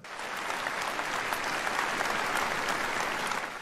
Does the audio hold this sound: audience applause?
yes